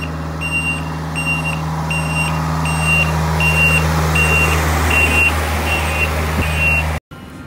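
An asphalt roller backs up on a paving job, its backup alarm sounding steady evenly spaced beeps, loud and close over a constant low diesel engine hum, until the sound cuts off abruptly at the end.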